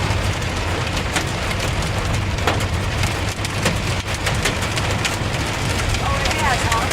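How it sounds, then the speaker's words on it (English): Hail drums on a moving car during a storm in Saint Louis, a dense, steady rattle of hits on the roof and glass that stays loud and close throughout. "Hail has slightly slowed."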